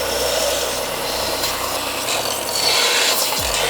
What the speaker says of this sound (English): Let's drill this last hole.